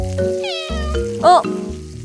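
A cat gives a single short, bright meow close by, set against sizzling and clattering kitchen sounds.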